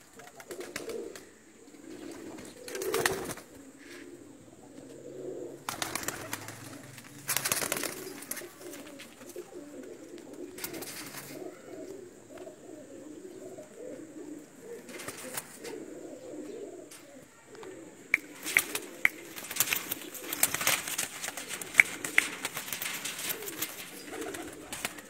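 Pakistani pigeons coo softly and repeatedly in low, rolling calls, with occasional sharp rustles and flaps of wings nearby.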